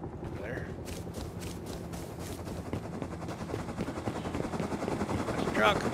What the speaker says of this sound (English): Get the chopper!